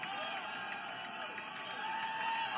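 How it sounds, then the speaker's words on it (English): Oakland A's fans at a 1981 baseball stadium cheering during a tense pitching sequence, a continuous broad roar of a large crowd on its feet, steady and slightly swelling toward the end. "cheering with every pitch from Beard"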